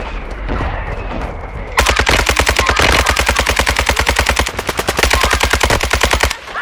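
Automatic gunfire from Call of Duty Warzone 2 bursts in loudly after a short lull, a rapid, continuous stream of shots lasting several seconds before cutting off.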